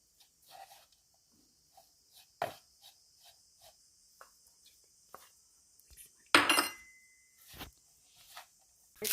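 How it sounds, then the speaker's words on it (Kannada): A spoon mixes cooked rice in a pan for Karnataka-style mango rice, giving sparse metallic scrapes and clinks spread over the clip, with one louder clatter near the end. "ಈಗ ಅನ್ನ ಮಿಕ್ಸ್ ಮಾಡ್ಕೊಬೇದಕ್ಕೆ"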